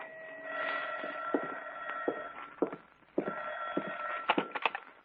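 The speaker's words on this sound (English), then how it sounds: "it was about 11 o'clock when the phone rang." A home telephone rings late at night in an apartment, in an old radio drama: two long ringing bursts with a short gap between them, clear and fairly close, with no talking.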